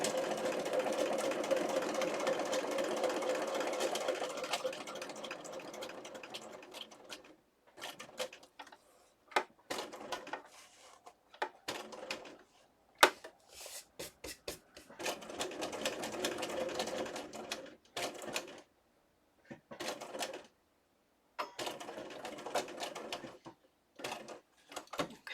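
A sewing machine stitching through paper with white thread runs in quiet, steady bursts of rapid mechanical chatter, stopping and restarting many times with short silent gaps between runs.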